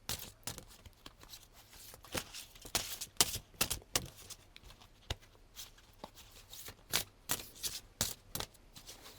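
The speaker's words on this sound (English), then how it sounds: "Let's do these Mary Magdalene cards." A deck of Mary Magdalene tarot cards is shuffled by hand in quick, irregular bursts of close, crisp riffling and slapping. The bursts come in an uneven rhythm with brief pauses between them.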